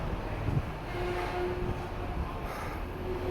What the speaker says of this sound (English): or get on the train, just like I'm doing now.